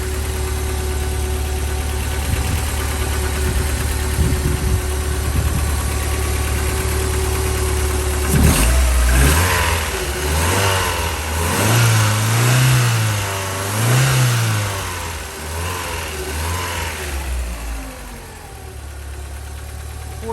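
A 1996 Land Rover Defender 90 engine idles with a steady low rumble, then revs up several times in rising and falling surges before settling back to idle, loud and close with no talking.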